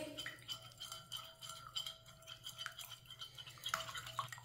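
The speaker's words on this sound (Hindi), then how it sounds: "एक अंडा, अंडे को अच्छी तरह मिक्स कर लेंगे।" An egg being whisked in a bowl, a soft rapid scraping and clicking that keeps on steadily at low volume, with no voices over it.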